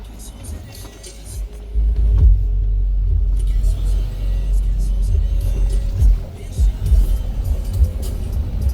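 A motor vehicle's exhaust rumbles loudly and deeply nearby, with rising and falling revs, while people talk under the engine noise.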